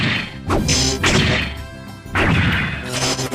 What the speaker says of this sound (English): Leopardon rushes toward Dino Charge and drives its weapon into the enemy's mechanical face